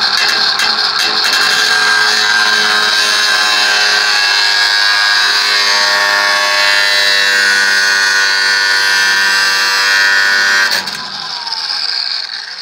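A cordless power tool whines loudly and steadily up close, cutting or grinding rusty sheet metal on a 1955 Oliver Super 88 tractor, then cuts off abruptly near the end, leaving a quieter rumble.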